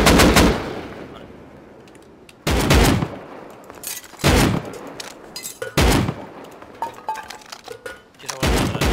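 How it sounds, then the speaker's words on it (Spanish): Gunfire from players shooting each other in the video game Rust: several sharp, loud bursts of automatic fire spaced a second or two apart, each cutting out abruptly between quieter gaps. "Están disparándose entre ellos, pero no sé dónde está."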